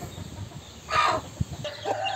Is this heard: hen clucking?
yes